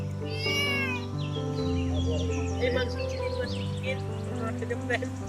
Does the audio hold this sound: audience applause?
no